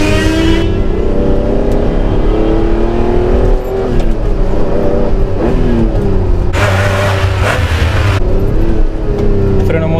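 A Ferrari Testarossa engine heard from inside while driving, a loud, steady droning hum whose pitch rises and falls as the revs shift under engine braking.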